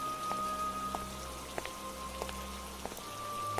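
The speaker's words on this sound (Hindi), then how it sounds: "इस जंगल में से ऊपर से इतनी बारिश हो रही है" Heavy rain pours steadily over a jungle, a dense continuous hiss with scattered drops pattering on nearby surfaces and no voices.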